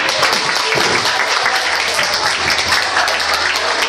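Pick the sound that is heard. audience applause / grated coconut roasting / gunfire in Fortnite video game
audience applause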